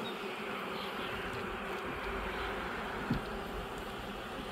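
Honeybees swarm around hive frames after the honey harvest, a dense, continuous buzzing drone that fills the space evenly, close and steady, with a brief soft knock partway through and no speech.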